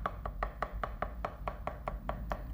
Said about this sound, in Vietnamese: băm cho nhuyễn nhuyễn ra luôn